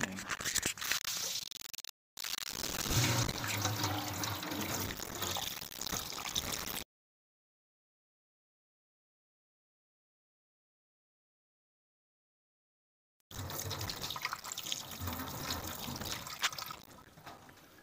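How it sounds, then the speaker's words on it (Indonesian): A kitchen tap runs in a steady rush of water, close and fairly loud, cutting out briefly near the start, then falling silent for several seconds before the flow resumes. "saya akan mencoba menyalakan keran"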